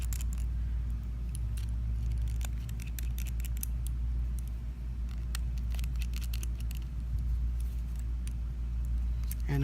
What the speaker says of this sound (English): So I'll go ahead and remove the 3 screws.